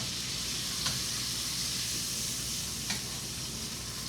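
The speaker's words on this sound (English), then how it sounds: "Listen to that sizzle." Pork steaks sizzle in a pan on a stovetop with a steady, close hiss of frying fat, broken only by a couple of faint ticks.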